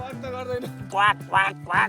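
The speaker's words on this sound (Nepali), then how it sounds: "हाँस लिएर क्वाक गर्छ त मलाई हाँसले" A duck quacks three times in a steady rhythm, loud and close, over a low continuous hum.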